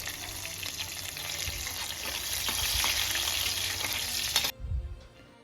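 Green chillies, dried chillies and cinnamon frying in hot oil, a close, steady crackling sizzle that runs for several seconds with faint stirring, then cuts off abruptly near the end.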